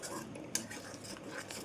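Katla fish curry being stirred and sautéed in a pan over medium heat, soft scraping and a sharp utensil clink against the pan, quiet and close with faint sizzle.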